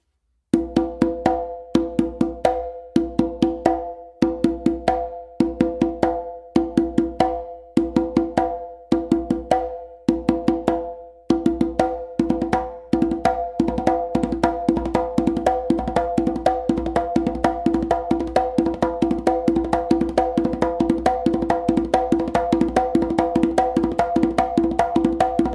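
Conga drum exercise combining interchanging open tones and slaps with alternating hands, starting in spaced groups of strokes and then running into a steady, continuous stream of rapid hits, loud and close throughout.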